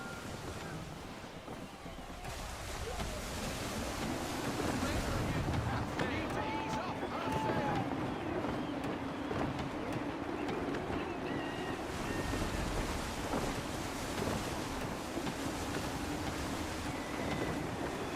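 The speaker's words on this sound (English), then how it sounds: "Wind looks to be shifting. Stay alert, Connor. Gusty winds can be difficult to manage." Wind gusts and ocean waves around a sailing ship at sea in Assassin's Creed III, a continuous rushing wash of surf and wind with a low rumble throughout, plus a brief faint tone midway, with no speech.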